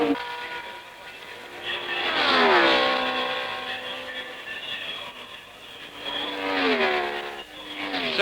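1962 French Grand Prix racing cars, including Gurney's Porsche, pass with high engine notes. Each rises and falls in pitch as it sweeps by, two main passes swelling loud then fading, with no talk.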